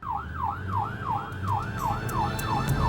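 An ambulance siren from a Hindi-Bhojpuri family drama wails in fast, regular rising-and-falling sweeps, steady and moderately loud, with faint road noise underneath and no voices.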